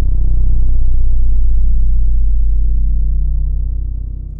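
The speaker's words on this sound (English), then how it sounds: "it's almost like this ominous boom that happens at the beginning of the next phrase here" A deep bass sample, pitched way down and EQ'd, booms, swells and slowly fades, a dark low rumble sustained for several seconds with nothing else over it.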